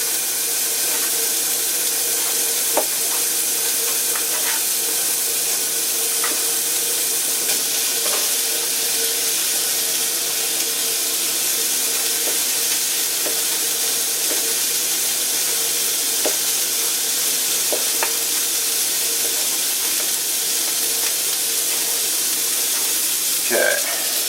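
Bacon frying in a cast iron pan while a quiche is being made, giving a steady, bright sizzle throughout. Occasional small pops and crackles rise out of the hiss.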